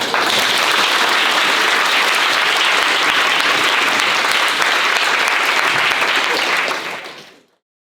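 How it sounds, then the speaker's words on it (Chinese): An audience at an IFBB Pro bodybuilding event gives loud, continuous applause to welcome a competitor, dense clapping holding steady for about seven seconds before fading out quickly. "先热烈掌声欢迎热狗王进场"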